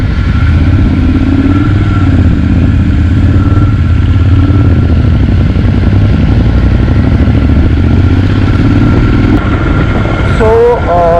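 A scrambler motorcycle climbs uphill on a mountain road from Manali toward Jispa, its engine a loud, unbroken drone close to the rider, mixed with constant road and wind rumble throughout.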